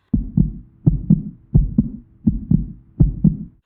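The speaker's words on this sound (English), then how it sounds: "Eric felt his heart beating like a drum." A heartbeat sound effect: five steady lub-dub double thumps, low and close, with no other sound around them.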